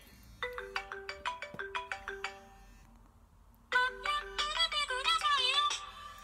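A mobile phone rings with an incoming call, a bright melodic ringtone of repeated chiming notes that stops briefly and then resumes louder and fuller, playing alone at close range.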